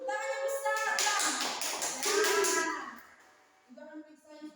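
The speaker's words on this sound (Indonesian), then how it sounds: "Tepuk tangan untuk kelompok Rehan." Children in an early-grade elementary classroom clap for a small group of classmates, a dense burst of close hand claps lasting about three seconds before it tapers off, with voices talking briefly at the end.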